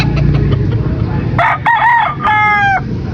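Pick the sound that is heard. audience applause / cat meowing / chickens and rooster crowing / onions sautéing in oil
chickens and rooster crowing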